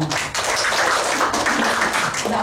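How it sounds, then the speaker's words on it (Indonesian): A church congregation in Surabaya claps together, a dense, steady wash of hand claps filling the room for a couple of seconds with a brief dip near the start. "Tepuk tangan, tepuk tangan."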